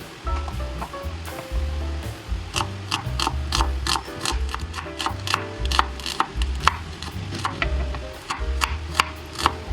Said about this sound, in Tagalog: Chop-chop lang natin yung talong